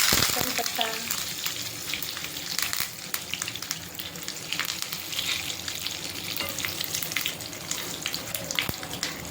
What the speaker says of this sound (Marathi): राई फुटू द्यायची चांगली.